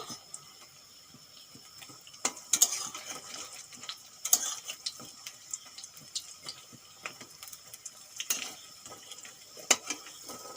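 Chickpea fritters frying in hot oil give a soft, steady sizzle with scattered clinks and taps of a spoon or pan, a few sharper knocks standing out, and no talking.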